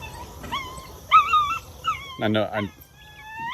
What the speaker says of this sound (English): I know you can hear Smokey. She's okay